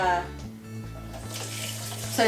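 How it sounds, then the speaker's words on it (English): Water runs steadily from a kitchen tap while a sourdough sandwich bread dough is being mixed, a continuous close hiss with a brief dip in flow partway through. "I usually will turn my water on and then I'll dip the bowl in and out"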